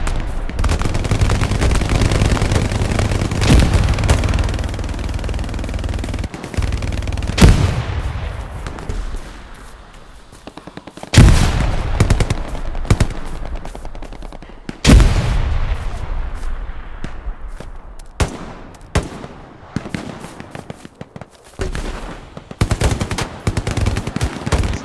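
Gunfire in the WWII shooter Hell Let Loose: dense bursts of machine-gun fire and sharp rifle shots, some close and loud, others distant, with echoing booms and brief lulls over about twenty-five seconds.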